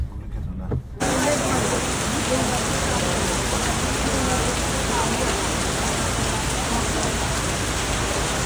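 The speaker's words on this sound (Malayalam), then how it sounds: "നല്ല മഴ" Heavy rain in Kerala pouring down in a dense, loud, steady roar that starts abruptly after a second of quieter sound and continues unbroken.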